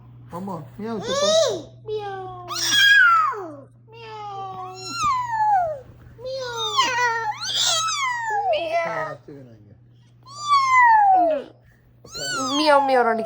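A young child imitates a cat's meow with a string of high, sliding mewing cries in close succession, close and clear over a steady low hum, with an adult's voice speaking between them.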